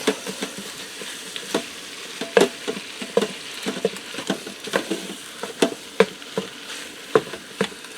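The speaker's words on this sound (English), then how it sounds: "I want to stir that chili powder around, move that up from the top of the, or from the bottom of the pot, so it doesn't scorch" Chili powder and ground beef are stirred in a pressure cooker pot, a spoon scraping and knocking in irregular, close strokes over a soft sizzle, with no talking.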